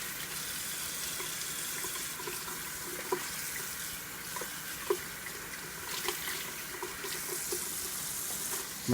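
Cold tap water runs steadily into a kitchen sink as cooked lasagna noodles are rinsed, a soft continuous hiss and trickle with a few faint clinks and splashes, no talking.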